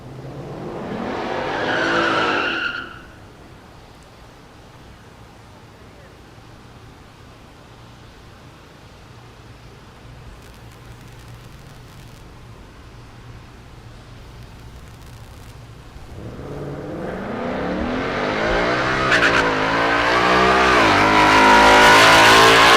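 A Ford Mustang drag car at Texas Motorplex in Ennis, Texas, gives a loud brief burst, then a quieter lull, before a long rising engine roar builds and swells loudly up close.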